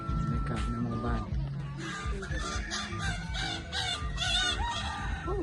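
A rooster crows and chickens cluck around a Lao village with no electricity, several birds calling in overlapping bursts at moderate distance while someone talks over them.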